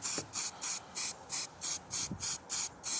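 A spray paint can sprays very close to a Warhammer 40k Genestealer Cult Goliath model in a row of about nine short, regular hissing bursts, each separated by a brief gap.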